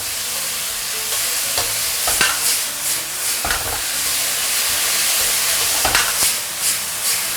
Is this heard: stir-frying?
yes